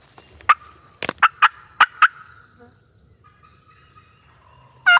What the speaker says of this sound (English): That turkey's back up there on top of